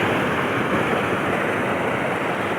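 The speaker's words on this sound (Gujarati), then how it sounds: "જુઓ જોઈ લો તમે કેટલું પાણીનો અવાજ છે, કેટલો મસ્ત છે." Rushing water pours over an overflowing check dam after heavy rain, a loud, dense, unbroken roar close by with no voices.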